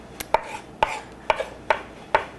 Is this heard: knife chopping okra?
yes